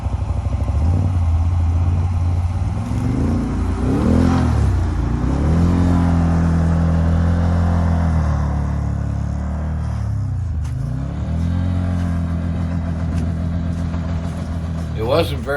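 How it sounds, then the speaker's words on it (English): A vehicle engine revs and rumbles steadily up close while dragging a stuck Can-Am out to a packed trail, its pitch rising and falling through the pull. "drag the Can-Am out to the packed trail"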